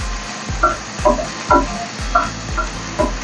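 Gobindobhog rice fries in a pan alongside a fish head under a soft sizzle, while a spatula stirs and scrapes in a regular rhythm of about two strokes a second.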